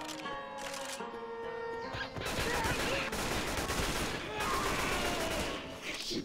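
Rapid automatic gunfire from the video game Left 4 Dead 2 rattles continuously and fairly loudly for most of the clip, layered over game music and effects.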